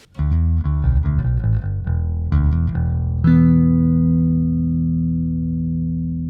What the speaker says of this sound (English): My clean signal sounds like this.